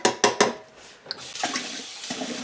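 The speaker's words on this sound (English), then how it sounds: "Little shot of water." Water splashing into a slow cooker of soup, a few quick sloshes at first and then a softer ongoing trickle, close by.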